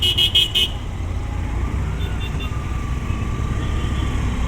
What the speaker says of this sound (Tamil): ஹாரன் அடிச்சுட்டே இருக்காங்க.